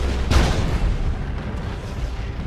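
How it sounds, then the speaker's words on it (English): Explosion in the Dawn of War 2 real-time strategy game during a 3v3 match, a single loud booming burst near the start followed by a rumbling battle din that continues throughout. "That was an explosion in the Banshees' faces."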